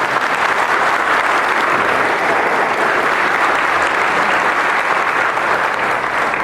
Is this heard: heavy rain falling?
no